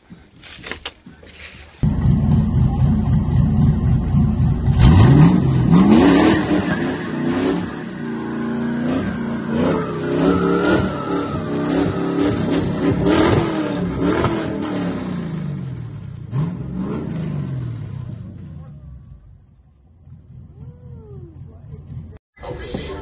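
An LS V8 engine revs hard during car burnouts, a loud, wavering roar that climbs and falls in pitch for nearly twenty seconds before dropping away, with whoops and shouts from onlookers.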